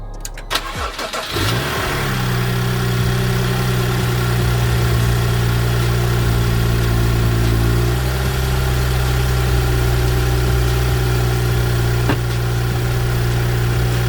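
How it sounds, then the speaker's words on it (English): A BMW 335i (F30, N55 engine) cranks and starts, then settles into a steady, loud idle with a constant low hum that continues unchanged. "we're going to start the car and let it idle for 10 minutes"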